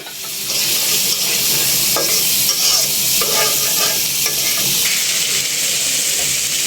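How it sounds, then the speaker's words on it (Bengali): Potatoes and shrimp being stirred and fried in a pan, a loud continuous sizzle close up with scraping stirring strokes over it and no talk. "কষিয়ে নিলাম।"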